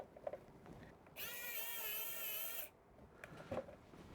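A small electric screwdriver drives a screw into an RD6030 power supply unit, giving one steady high whine of about a second and a half, close up, framed by quiet handling clatter.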